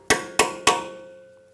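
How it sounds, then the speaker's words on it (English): Three sharp metallic strikes of a hammer on a chisel staking the axle nut of a 2013-2017 Honda Accord, evenly spaced with a ringing tone that lingers after each blow. "Using a chisel and a hammer, we're going to stake the axle nut"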